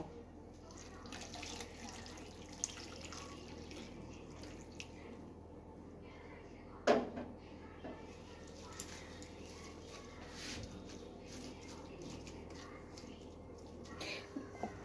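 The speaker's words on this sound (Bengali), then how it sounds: "আমি এবার ভালো করে উষ্ণ উষ্ণ গরম জল করে আমি চিড়েটা ভালো করে ধুয়ে নেব" Flattened rice (chira) being washed in warm water, a soft continuous sloshing and trickling with one sharper splash or knock partway through, close and fairly quiet.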